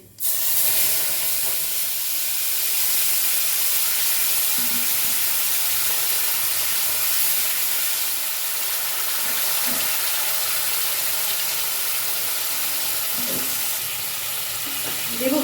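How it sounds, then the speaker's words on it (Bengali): Nigella seeds and a ground spice paste fry in hot oil for a winter vegetable curry. A loud, dense, steady sizzle and hiss fills the whole stretch up close, with a few faint clinks and no talking. "এবার কালো জিরে ফোড়ন দিচ্ছি আর যে মশলাগুলো আমি দেখিয়েছিলাম সেই পেস্টটা আমি দিচ্ছি"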